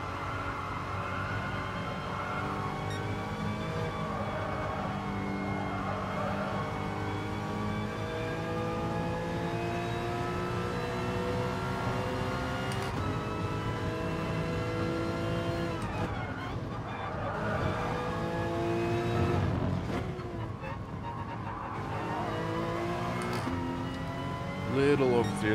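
A race car engine in Gran Turismo Sport drones loudly and continuously, its pitch rising and falling through gear changes and corners, while a voice talks over it.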